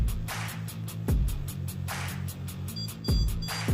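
Stud finder pulsing over electrical wiring behind a wall, giving a steady electronic tone that repeats roughly every second, loud and close, with sharp onsets and a fixed pitch, and no talk over it.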